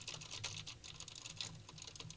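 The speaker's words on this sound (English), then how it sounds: "while typing on Cherry MX switches" Steady rapid typing on a mechanical keyboard with Cherry MX switches, picked up by a large diaphragm broadcast dynamic microphone: crisp, close, uneven key clicks and clacks with soft low thumps, no voices, fairly quiet overall.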